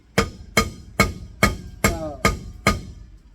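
Seven sharp, evenly spaced hammer taps ring out on a 1965 Chevrolet Impala's brake wheel cylinder, each a crisp metallic strike that quickly decays.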